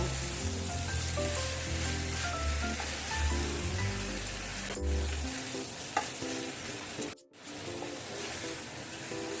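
A soybean and potato curry sizzles and is stirred in a pan after salt goes in, a steady close frying hiss under soft background music, broken by a brief dropout near the end.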